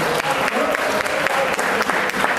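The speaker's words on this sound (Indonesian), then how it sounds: "tepuk tangan dong buat Pak Kelvin" Audience at a university public lecture applauds steadily, a dense, loud wash of clapping hands that carries on without a break.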